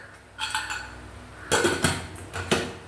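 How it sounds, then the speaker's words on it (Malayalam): Metal clanks and rattles as a pressure cooker lid is fitted and closed, in three short bursts, close and fairly loud. "ഇനി നമുക്ക് കുക്കറിൻ്റെ മൂടി കൊണ്ട് ഇത് അടയ്ക്കാം."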